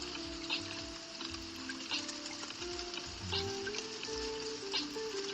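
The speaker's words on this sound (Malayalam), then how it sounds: "നല്ല മഴയാണ്." A steady, dense hiss of heavy rain pours down continuously, with a low rumbling hum underneath and no talking.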